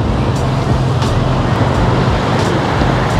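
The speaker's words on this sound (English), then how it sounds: "Sorry about the road noise, we're obviously right by the freeway." Steady freeway traffic noise from cars and trucks passing nearby, a loud continuous roar with occasional brighter swooshes of passing vehicles.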